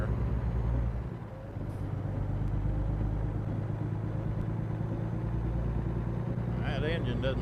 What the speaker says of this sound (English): That engine doesn't sound like it has much power either